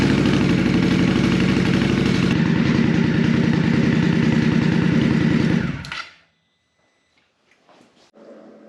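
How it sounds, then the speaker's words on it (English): An Indian Scout Rogue motorcycle engine idles with a steady, loud, close rumble for about six seconds, then cuts off, leaving near-silence broken by a few faint clicks and light handling noises. "we're going to fire this thing up, let it idle for a few minutes,"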